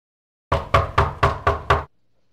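Six evenly spaced knocks on a door, firm and close, sharp raps sounding in steady rhythm against silence, with no voices.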